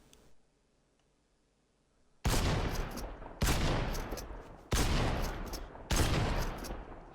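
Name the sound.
assault rifle firing while aiming in the video game Fortnite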